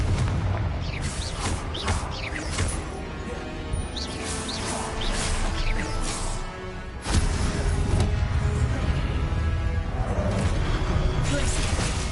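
Repeated Confringo blasting-spell explosions in the video game Hogwarts Legacy, loud booming crashes and bursts layered over game music and effects, with a sharp surge partway through.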